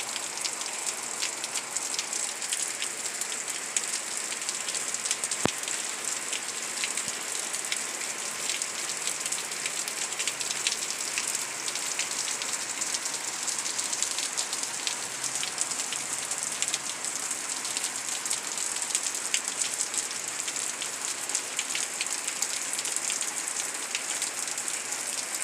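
Heavy rain pouring steadily on a surface during a storm, a dense continuous hiss with scattered nearby drops, alone without talk throughout.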